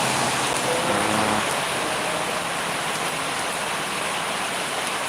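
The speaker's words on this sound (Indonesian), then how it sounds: "Malam ini sedang dilanda hujan di kawasan Kabupaten Aceh Jaya" Heavy rain pours steadily at night in Aceh Jaya, Indonesia, a dense, continuous hiss with no pauses or voices.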